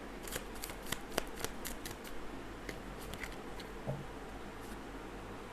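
Tarot cards being drawn and shuffled, soft papery flicks and snaps in a loose cluster, faint and close over a low background hiss.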